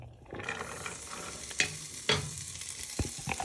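Garlic and onion hit a hot pan and sizzle steadily, stirred with a few sharp scrapes and clatters of a utensil against the pan, close and fairly loud with no talking.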